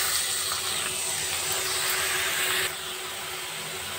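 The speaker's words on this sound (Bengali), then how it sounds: "অল্প পরিমাণে একটুখানি জল দিয়ে দেবো" Water poured from a rinsed mixer jar into spiced masala in a cooking pan, giving a loud, continuous hissing, sizzling rush that drops in level partway through, with no talk.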